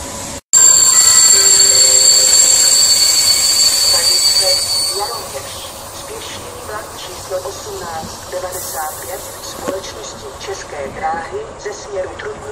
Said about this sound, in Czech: Ze směru Trutnov hlavní nádraží přijel na čtvrtou kolej.